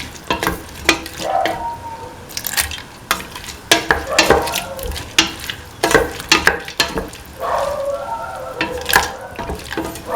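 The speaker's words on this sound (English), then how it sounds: "Keep on saute. Saute and mix the lentil." Lentils sauté in a hot pan for a bell pepper and coconut milk stew, with repeated close scraping and clattering stirs over a steady, gentle sizzle.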